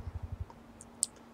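Button clicks on a Steam Controller while playing The Division 2 on PC: a rapid run of five soft, close taps, then one sharper click after a short pause.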